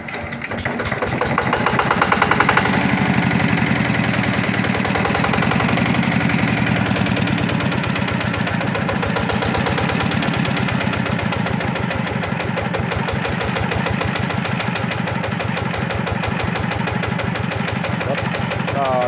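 A DI 120 motorcycle engine running steadily, a close, continuous mechanical putter with a fast, even firing rhythm, briefly revving up early on before settling into a constant idle, with someone talking over it.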